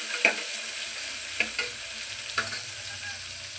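Bay leaf and cinnamon fry in hot oil for hotel-style poori kurma. The sizzle is soft and steady, with a few light stirring clicks over it.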